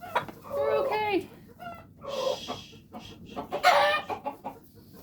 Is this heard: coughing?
no